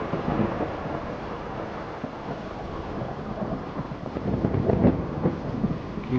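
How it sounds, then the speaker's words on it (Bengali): Heavy rain sets in with a broad, continuous roar and low rumbling thunder swelling underneath, steady and enveloping with no voices. "কি বৃষ্টি শুরু হয়েছে দেখছেন"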